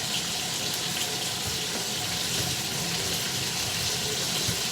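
Water runs from a kitchen tap in a steady, even broadband rush while scallions are rinsed under it, close and continuous with no voices.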